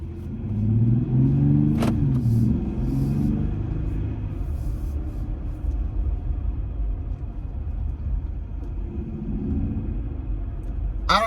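A Jeep Gladiator fitted with an Airaid cold air intake accelerates, giving a deep, loud engine rumble that swells early and then settles into a steady drone, heard from inside the vehicle.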